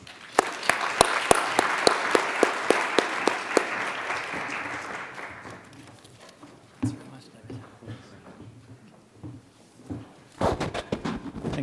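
An audience at a keynote event applauds to welcome Secretary Johnson, dense clapping that fades over several seconds into footsteps and rustling, with a few scattered claps returning near the end.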